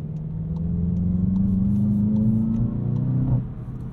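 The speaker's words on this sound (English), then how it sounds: "so many manufacturers pipe in exhaust note through the speakers of cars" A 2022 Volkswagen Jetta GLI's synthetic exhaust note, piped through a blown cabin speaker, hums and slowly rises in pitch as it accelerates, a droning, slightly muffled tone that drops off abruptly near the end.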